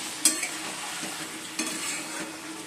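Chicken and fried potatoes are stirred in a hot pan in a home kitchen: soft continuous sizzling, broken by a few sharp utensil scrapes and clinks against the pan, close and fairly quiet, no voices.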